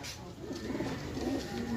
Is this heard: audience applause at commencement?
no